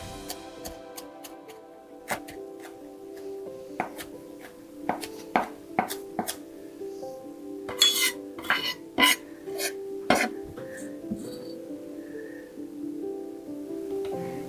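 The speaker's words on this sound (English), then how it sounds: "Let's give it a good chop." A knife chops fresh thyme on a cutting board in a series of sharp, close taps, sparse at first and then quicker in irregular bursts, over a low steady background hum.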